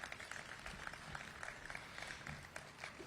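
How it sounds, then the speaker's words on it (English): Applause for an honoree at a transit-hub unveiling event: a dense, steady patter of many hands clapping, fairly distant and soft, running for the whole stretch with a faint crowd murmur beneath. "give a round of applause to Dan"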